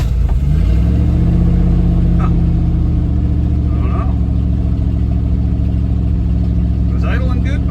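The engine of a 1979 Dodge W150 Roundup that had sat for over fifteen years revs up briefly and then runs loud and steady up close, a deep continuous drone with someone speaking briefly over it.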